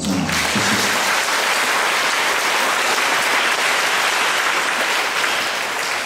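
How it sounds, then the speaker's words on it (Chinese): Dense, loud audience applause fills the space at a live music event, a continuous roar of clapping hands that holds steady throughout with no pauses. "我们再给阿全的妈妈一个掌声好"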